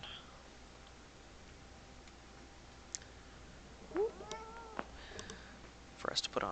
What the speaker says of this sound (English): If you hear some meows in the background, I apologize.